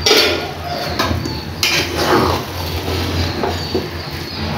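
A spoon stirs biryani in a metal cooking pot, giving close scraping and clinking strokes over a low background hum, with no talking.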